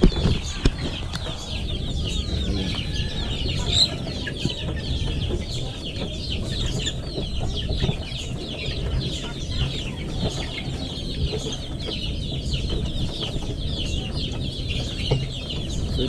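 Dumpo Shamo chickens and young chicks clucking steadily at close range, a continuous busy flock chatter with scattered sharper calls and no talking.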